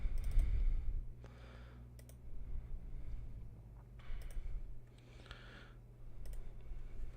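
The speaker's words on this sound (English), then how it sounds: "Just clicking a bunch of things and hoping it works." Computer mouse clicked repeatedly at a desk, soft close clicks in scattered bursts over a low steady background hum, with no talking.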